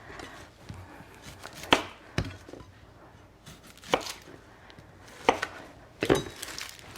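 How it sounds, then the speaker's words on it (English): A knife chops an onion on a wooden board with sharp, irregular knocks, some crisp and loud, others softer, spaced a second or so apart at close range. "I am going to cut stuff pretty small because I want this to cook fairly quickly"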